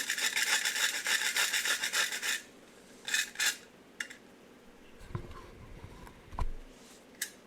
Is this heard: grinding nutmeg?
yes